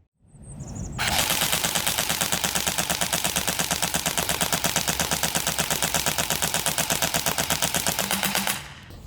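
Umarex AER16 electric full-auto .177 BB rifle firing a long sustained burst at a target about 10 yards away, a rapid, even mechanical rattle lasting around seven seconds before stopping abruptly, close and loud with no talking.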